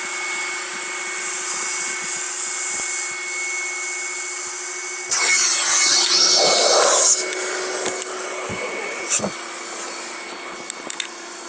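An electric air pump inflating an inflatable boat with an air-pumped floor, a loud steady whine with a sharper burst partway through and a few clicks near the end.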